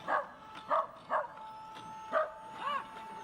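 A dog barks at a robot in a short series of yips and bow-wows, about five bursts spaced unevenly over a few seconds, heard fairly close against a steady electronic tone.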